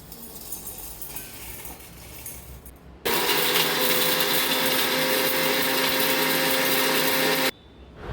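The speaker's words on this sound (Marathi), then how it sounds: "खडे मसाले आहेत ते मिक्सरला फिरवून घ्यायचे।" A kitchen mixer grinder whirs loudly as it grinds whole spices for a Kolhapuri white rassa masala, a steady high-pitched motor roar that starts abruptly, runs about four and a half seconds and cuts off, with quiet room noise before and after.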